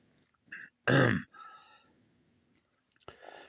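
A single harsh, throaty cough bursts out loudly, followed by quieter breathy vocal sounds and a faint click near the end.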